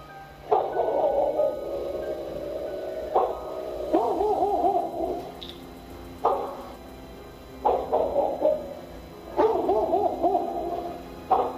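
Dogs bark and howl in repeated drawn-out bursts, five or six loud, close, tonal volleys separated by short pauses, with no talking.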